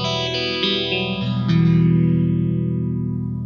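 An overdriven electric guitar run through a phaser in the amp effects loop, a few strummed chords ending in one ringing chord while a slow sweep moves through the full amp sound.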